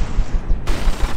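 A custom-built cannon firing in a naval combat game, a loud, rapid rumbling volley of shots that continues through the short stretch with a brighter burst partway in.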